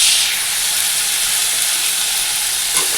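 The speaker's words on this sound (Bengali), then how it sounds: "আলু ভাজা বসিয়ে দিয়েছি" Potatoes frying in a pan on a home stove, giving a steady, loud, continuous sizzle and hiss that holds evenly throughout with no talking.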